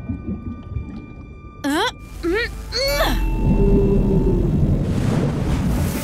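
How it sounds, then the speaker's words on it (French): A gray whale in an animated children's show blows through its blowhole, a loud, sustained whooshing rush that follows a few short squeaky chirps and carries on to the end. "J'ai fait peur à une baleine grise et elle t'a soufflé par son évent!"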